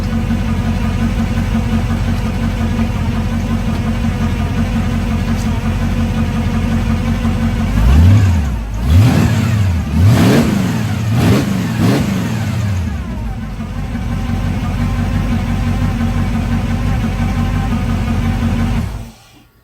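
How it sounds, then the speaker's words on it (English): A Chevrolet Camaro engine idles loudly up close, then revs several times in quick bursts, pitch rising and falling, before returning to a steady idle. "So I'll give it some more revs for you guys"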